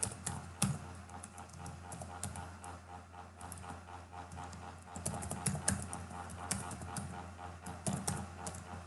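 Computer keyboard typing of code, a quiet, irregular patter of key clicks close by, with brief pauses and small clusters of faster keystrokes.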